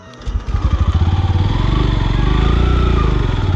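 A motorbike engine revving on a rough off-road trail with no proper road, rising from a sputtering start into a loud, close, steady throbbing drone.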